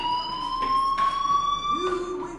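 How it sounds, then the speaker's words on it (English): A video game fire alarm rings with a steady high electronic tone and harmonics, continuous and fairly loud, with brief noisy bursts layered over it. "do you hear that fire alarm?"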